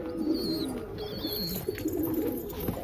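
Pigeons in a pigeon house make soft, throaty coos that roll on continuously, close and moderately loud, with a few faint chirps mixed in and no voices.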